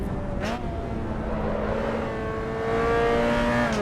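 A racing-game car engine holds a loud, steady drone, rising and falling as the driver downshifts and revs, with a brief whine near the start and a stronger surge toward the end.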